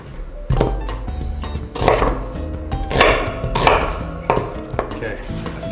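A knife chops an onion on a cutting board, a series of uneven, close thunks and knocks in short bursts, with no talk.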